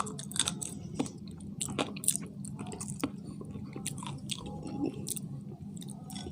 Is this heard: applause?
no